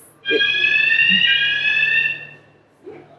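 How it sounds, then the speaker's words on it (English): A proximity alarm at a British Museum gallery display sounds a loud, high continuous electronic beep for about two seconds, then cuts off. A quiet voice is heard briefly near the end. "If you get too close, the little alarm goes off."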